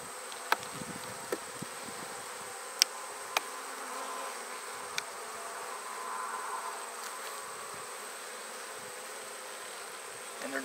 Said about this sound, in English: Seeing lots of bees in here